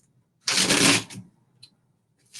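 A deck of playing cards being shuffled in one brisk riffle lasting about a second, close and fairly loud, followed by a couple of faint card taps.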